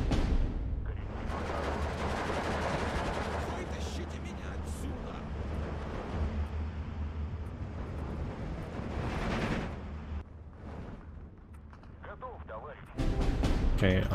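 Artillery barrages in the Steel Division 2 WW2 real-time strategy game, a dense sustained rumble of booms and blasts under continuous battle noise, dipping briefly before a loud final surge.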